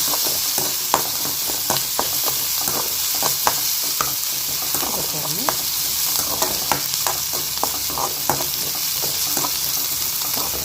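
Onion, garlic and chili sautéing in a pan, with a steady loud sizzle and repeated scraping strokes of a stirring spoon throughout.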